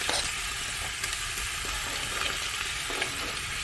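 Fallow deer venison searing in butter in a hot pan during a New Zealand catch-and-cook, a loud, continuous close-up sizzle with faint crackles and stirring, no voices.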